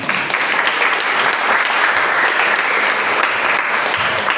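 Steady applause from an audience at a Quran recitation class runs without a break, dense and even, with no talk over it.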